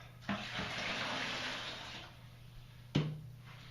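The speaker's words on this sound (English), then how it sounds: "And dump all the excess water out." Excess water is dumped out of a water filter housing, a brief close splash and gushing pour that fades out, followed by a sharp knock of the housing.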